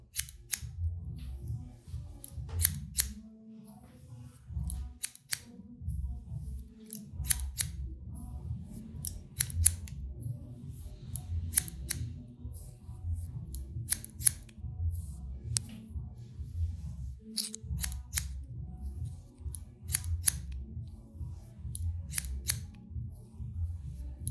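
Steel scissors snipping straightened hair during a haircut, crisp repeated close snips in irregular bursts over a low steady background hum, with no talking throughout.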